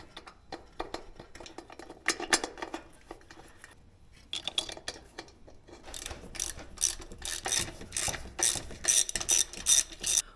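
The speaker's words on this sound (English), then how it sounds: "now that I've got all the bolts snugged up, I'm going to go a little bit tighter" A ratchet clicks rapidly while Allen bolts are tightened on an RBC throttle body adapter, close bursts of sharp ratcheting with a short pause, then denser, louder runs of clicks toward the end.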